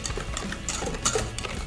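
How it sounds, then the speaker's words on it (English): Brownie batter whisked by hand in a bowl gives a quick, steady run of light ticking and clattering strokes, close up and fairly quiet, with no speech. "Let the whisk do the work."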